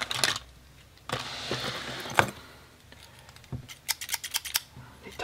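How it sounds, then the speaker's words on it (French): Green scissors snip into a foil pack of World of Warcraft trading cards up close, making crisp cutting sounds and rustling, with a burst of quick clicking snips near the end. "L'éternel ciseau vert."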